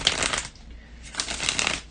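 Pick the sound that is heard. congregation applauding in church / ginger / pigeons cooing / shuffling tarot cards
shuffling tarot cards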